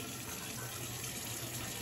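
Water runs steadily into a container as a continuous, faint, even gush with no breaks.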